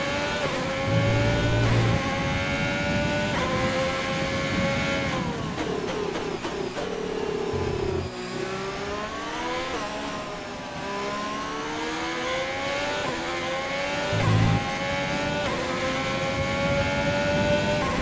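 Race car engine in the F1 2020 game, during qualifying at the Shanghai circuit for the Chinese Grand Prix, revving hard and changing pitch as it shifts gears, loud and continuous throughout with no talk.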